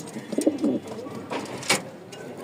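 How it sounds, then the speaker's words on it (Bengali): A pair of long-tailed fantail pigeons coo in low, rolling phrases close by, joined by a few short brighter calls and rustles. "এখানে একজোড়া লং টেলের লক্ষা আছে মাশাল্লাহ, এটা ডিম দিবে"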